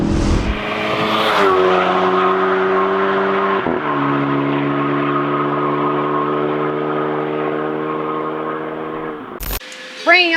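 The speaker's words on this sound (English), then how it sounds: "Here's what it sounds like from outside the car." A VW Mk8 GTI with an aftermarket exhaust revs hard with a deep, throaty note, climbing then holding steady through a gear change, heard from outside.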